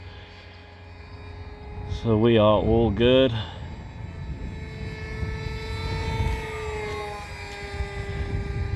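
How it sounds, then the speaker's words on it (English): A full-scale airplane drones high overhead as a faint, steady engine hum that slowly rises and falls, with a person speaking briefly over it early on. "We've got a full scale airplane coming in, but it's all the way up there."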